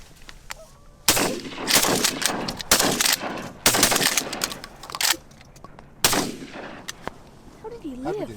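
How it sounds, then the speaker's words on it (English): Repeated shotgun blasts while hunting ducks and geese, loud close bursts in an irregular volley of about a dozen shots across several seconds, with honking geese calls between. "We shot at him like 16 times."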